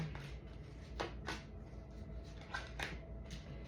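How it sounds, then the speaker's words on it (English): A deck of playing cards is shuffled close by in several quick riffling bursts separated by short pauses, crisp and fairly quiet against low background noise. "before I finish shuffling"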